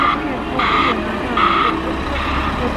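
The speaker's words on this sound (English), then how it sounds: "A great big truck there." A truck's reversing alarm beeps three times in an even, slow rhythm over a low engine rumble, heard from a short distance, at sea defence works in Watchet.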